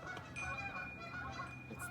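Canada geese in a family group give continuous, overlapping honks, moderately loud and a little distant, with no talk over them.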